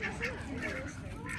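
Ducks quack at a farm with poultry and a water pool for bathing ducks, repeated calls close by, mixed with people talking throughout.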